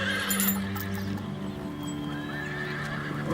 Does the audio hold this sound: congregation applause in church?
no